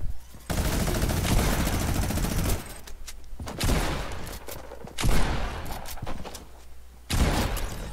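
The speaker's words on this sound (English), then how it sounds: "I missed two shotgun shots, and I still killed him" Shotgun blasts from a team battle video game ring out as several loud bursts, each trailing into a short noisy tail and spaced a second or two apart, with no talking.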